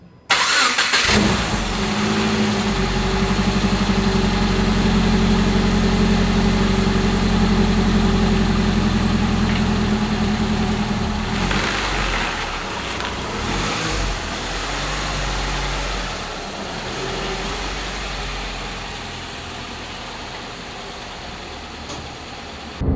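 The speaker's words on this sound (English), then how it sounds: "We can finally drive in our Crosstrek again." A motor-swapped Subaru Crosstrek engine runs steadily at idle, a loud, continuous low rumble that eases slightly in level after about eleven seconds and keeps running to the end.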